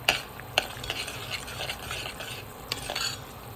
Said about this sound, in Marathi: मस्त अशी उकळी आलेली आहे भाजीला